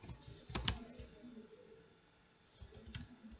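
Clicks of keystrokes on a computer keyboard as a command is typed, a quick cluster near the start and another toward the end, close and fairly quiet with a soft hum between.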